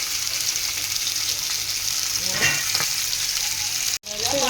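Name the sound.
fish frying in oil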